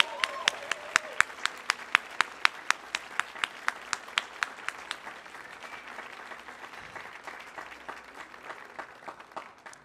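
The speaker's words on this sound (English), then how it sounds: "can we give a big round of applause to Christy Shea and Ken Weiss." Audience applause for the singers of an opera young artist program at a Millennium Stage concert: a few loud, sharp individual claps ring out over a steady wash of clapping that carries on throughout, without any talk.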